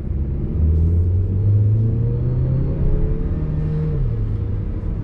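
2020 Mercedes-Benz GLB 200 accelerating, heard from inside as a steady low engine drone rising in pitch through the gear, a smooth continuous rumble with road noise.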